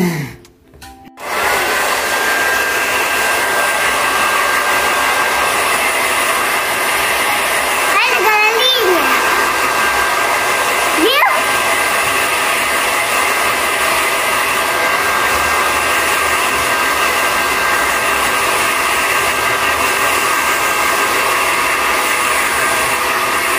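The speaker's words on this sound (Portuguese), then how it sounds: "Eu vou terminar de secar o cabelinho dela e já volto." A hair dryer blows steadily and loudly throughout, drying a young girl's hair at close range, with a brief voice and a few knocks early on breaking through the constant whirr.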